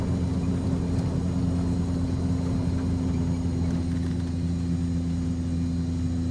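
A Cessna 208 Caravan turboprop in the X-Plane flight simulator applies propeller reverse thrust on the landing rollout, giving a loud, steady, even engine and propeller drone that holds without pause.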